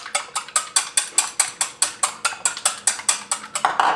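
A hand-cranked egg beater whirring through eggs in a bowl, a steady fast run of loud ratcheting clicks close by, with no voices.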